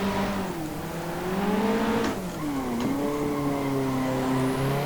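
A car drifting around a track in the Assetto Corsa racing game, engine note rising and falling with revs as tires squeal through the slide, steady and loud throughout.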